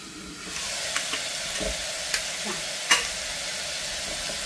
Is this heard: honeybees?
no